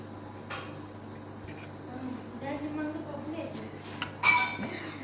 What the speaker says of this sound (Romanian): Adu o Denisa o farfurie și o linguriță.